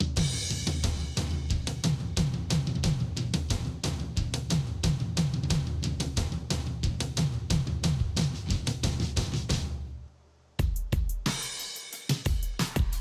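Taiko drums layered with toms pound through a reverb-heavy pop song mix in a cover of a K-pop track. The hits come in a fast, driving rhythm, drop out briefly near the end, then return.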